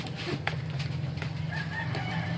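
A rooster crows nearby in a rural home setting, one drawn-out call rising over a steady low background hum with no talking.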